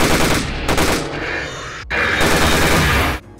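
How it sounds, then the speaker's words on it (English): Sustained automatic assault rifle fire from the video game Megaton, loud and dense, running in two long bursts with a brief break near the middle and a sudden stop at the end. "And now I've got myself an assault rifle."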